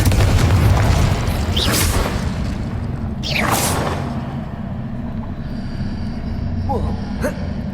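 Fiery Confringo spell explosions from the Hogwarts Legacy video game, two loud bursts with whooshing tails over a constant low rumble, followed by a smaller pop near the end.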